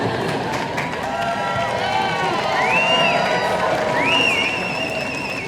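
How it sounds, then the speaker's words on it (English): A large Harvard commencement crowd in 2012 claps and cheers in a continuous roar, with sharp whistles rising above the noise. "you can clap for yourselves"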